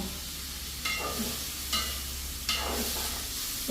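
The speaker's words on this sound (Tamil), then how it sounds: "இப்போ தக்காளி பழத்தையும் போட்டு வதங்க விட போகிறேன்" Tomatoes sauté in a hot pan with a steady hiss of frying, broken by a few louder scraping stirs about once a second.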